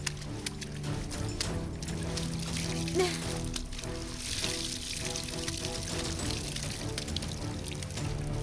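Water gushes steadily from a pipe into a flooded rice paddy during rice transplanting, pouring continuously under background music and occasional voices.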